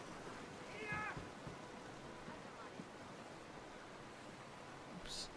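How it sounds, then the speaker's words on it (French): A short cat meow rises early on inside the Brothers video game, faint and brief against a soft wash of ambient game noise, with a brief hiss of sound near the end. "On va aller voir un petit peu le chat."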